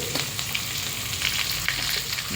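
Pork belly strips sizzle and crackle in a pan with sautéed garlic and onion, a dense, continuous frying hiss with occasional pops and stirring clatter, close by and without talk.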